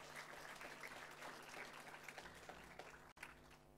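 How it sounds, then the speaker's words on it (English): Audience at a Year 10 school awards ceremony clapping steadily and continuously, a dense room-filling applause that holds for several seconds with a brief break near the end. "Let's give Max another clap, please."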